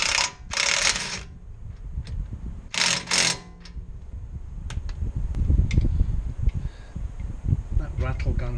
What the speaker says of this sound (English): That rattle gun actually is one of my best investments.